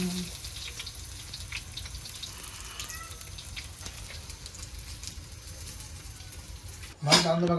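Pomfret fish pieces frying in oil in a pan at a Konkan coast home, a continuous soft sizzle holding steady for several seconds before a voice cuts in briefly at the end.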